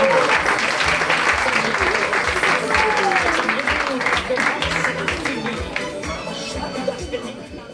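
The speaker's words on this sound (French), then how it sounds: "Vous pouvez applaudir, hein, c'est pas grave, ils ont pris un point" Spectators at a catch wrestling event applaud in a sustained, dense patter of clapping while voices carry over it and music thumps beneath, easing slightly toward the end.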